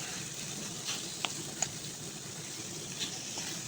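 Eggs stirred in a pan with bitter gourd give a quiet, steady sizzle, with a few faint sharp clicks of a utensil tapping the pan.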